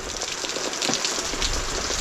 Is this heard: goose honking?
no